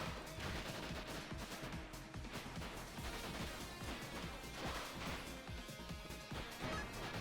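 Explosion attacks from a boss in Spark the Electric Jester, a dense, steady barrage of crashing blasts and impacts layered under game music, faint and continuous with no talking.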